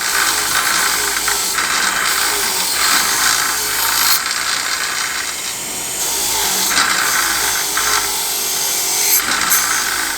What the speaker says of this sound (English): wire wheel them on a soft grade wire wheel on a bench grinder